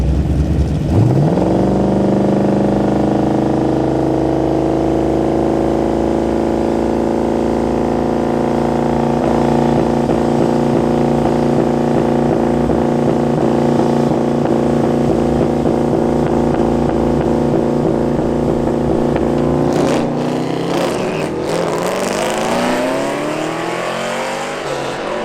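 A turbocharged drag car with True North turbos sits on the two-step and trans brake, engine holding a loud, steady, droning rev for about twenty seconds before launching with a sharp rising roar.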